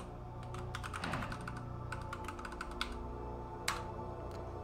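Computer keyboard keys tapped while entering a Minecraft chat command, a quick run of clicky keystrokes in short bursts with pauses between, close and fairly quiet over a steady background hum.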